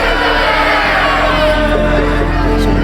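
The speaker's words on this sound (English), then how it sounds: "the mob roared even louder" An angry crowd roars in a dense, continuous wall of shouting voices, loud and sustained throughout with no pauses.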